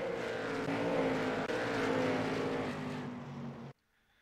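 Late model stock cars roaring past in a pack on the New Smyrna oval in the iRacing sim, a loud sustained engine drone that breaks off abruptly at the end.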